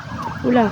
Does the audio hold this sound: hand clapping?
no